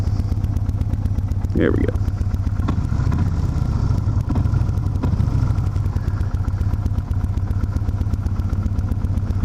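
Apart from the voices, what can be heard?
cruiser motorcycle engine running after shifting into neutral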